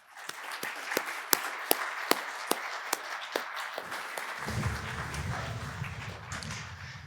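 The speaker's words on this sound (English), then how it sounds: "Let's give her a round of applause" Audience applause at a federal cybersecurity and AI panel event, sharp claps standing out over a steady wash of clapping that gives way to a lower rumble near the end.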